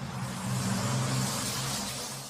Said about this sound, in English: This is what a double-decker bus sounds like to a toddler